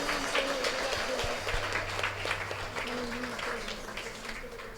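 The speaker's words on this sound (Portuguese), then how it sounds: "pode aplaudir o Senhor" A church congregation applauds during a Portuguese-language service, a steady, moderately loud patter of many hands with voices faintly underneath.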